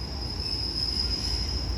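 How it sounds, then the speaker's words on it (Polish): A delayed PKP Intercity locomotive, Zakład Południowy unit, rolls into a Polish station, giving a steady low rumble of wheels on rail with a constant high-pitched tone above, close and loud throughout without pause. "Z opóźnieniem już bliżej mu do 20 niż 15 minut melduje się moja ulubiona lokomotywa."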